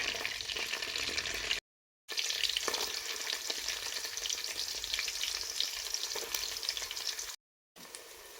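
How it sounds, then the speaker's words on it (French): Onion and fermented sea snail (yet) fry in hot oil, making a bright, continuous crackling sizzle close by, broken twice by brief silent gaps. "Je laisse frire le tout au moins 5 minutes"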